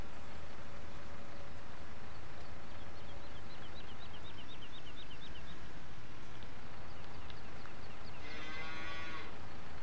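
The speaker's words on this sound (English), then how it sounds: "hitting cows." Cattle moo repeatedly in Farming Simulator 19, a low drawn-out lowing over continuous farm ambience, with birds chirping faintly now and then.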